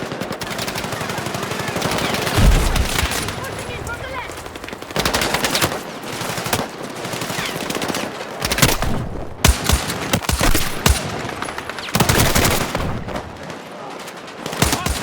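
Dense gunfire fills a Battlefield 6 video game battle, with sustained machine-gun bursts and sharp shots at close range, broken by short pauses and heavy impacts, while voices are heard briefly.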